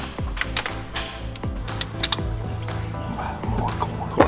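Coolant drips and trickles from the standpipe of a 6.7 Cummins engine, irregular wet drops and splashes heard close up with no talking.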